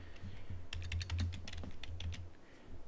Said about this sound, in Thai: ไปคลิกที่ขอบซ้ายนะครับแล้วก็พิมพ์คำว่า SQL นะครับ